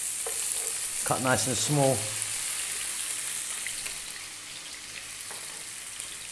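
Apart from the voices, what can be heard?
chopped onion frying in olive oil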